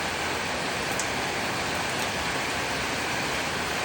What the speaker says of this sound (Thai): เริ่มแรงขึ้นเรื่อยๆค่ะสายฝน